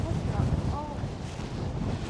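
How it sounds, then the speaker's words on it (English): Gusty wind on the Manhattan Bridge buffets the microphone, a low rumbling roar that stays steady and loud throughout with faint traces of other sound underneath. "Bloody hell, it's windy."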